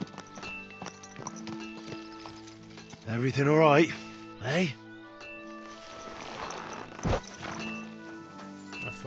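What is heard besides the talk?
horse hooves and whinny in the video game Kingdom Come: Deliverance II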